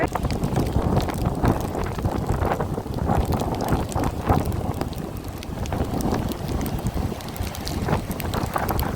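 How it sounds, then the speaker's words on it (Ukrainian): Strong wind roars steadily by the sea in Odesa in winter, blowing snow along the shore in a dense, continuous gusting rush with no voices. "Мете все сильніше і сильніше."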